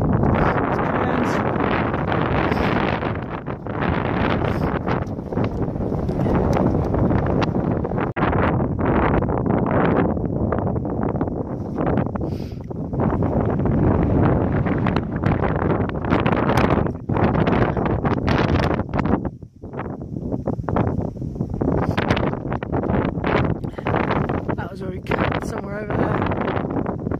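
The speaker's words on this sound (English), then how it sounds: "You probably can't hear me because it's a bit windy." Strong wind on Dartmoor buffets the microphone in continuous gusty roars, with a voice speaking faintly underneath.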